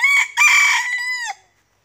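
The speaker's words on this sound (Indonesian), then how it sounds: "Ini memang keturunan ayam hutan merah" A red junglefowl rooster crows loudly and close, one long harsh call with a short break before a drawn-out, fading end.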